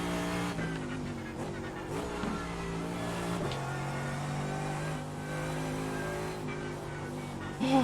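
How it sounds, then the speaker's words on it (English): Race car engine in the iRacing sim at Belle Isle, droning steadily at high revs with shifting pitch through gear changes and a brief rise near the end, loud and continuous with no talk. "one of the nicest sounding cars in this game"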